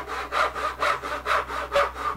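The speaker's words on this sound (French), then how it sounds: "un trait de scie dans un sens puis dans l'autre" A hand saw rasps back and forth through wood in steady, even strokes, cutting a half-lap joint, about five passes, close and clear with no talking.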